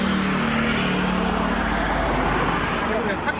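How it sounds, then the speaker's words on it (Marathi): A vehicle passes on a dark highway, its broad, close road roar steady throughout the clip and loudest in the first moments, with people talking over it. "ओ गाडी आले गाडी आले गाडी आले"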